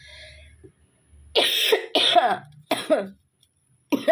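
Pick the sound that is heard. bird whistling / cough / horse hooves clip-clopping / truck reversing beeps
cough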